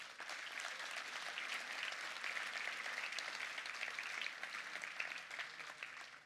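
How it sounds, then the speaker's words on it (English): Keynote audience applauding at Atlas Camp 2018, a dense, even round of clapping from a large crowd that holds steady for about six seconds, heard at a quiet, distant level. "Please give yourself a round of applause."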